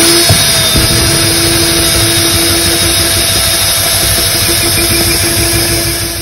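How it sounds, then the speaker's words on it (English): A power drill boring a hole to route wiring while installing a Powertorque jack, producing a loud, steady motor whine that runs unbroken for several seconds and then eases off slightly at the end. "so I'm going to drill here."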